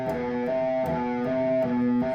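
Guitar hammer-on trills on a muted string: short repeated tapped notes with sustained pitched tones in a quick, even rhythm, played alone and fairly close.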